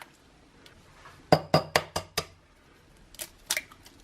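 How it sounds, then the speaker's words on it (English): Two eggs cracked into a bowl for banana pancakes: a quick series of four crisp taps against the rim, then a pause and a couple more cracks and clinks, close and distinct. "So we'll crack in the 2 eggs."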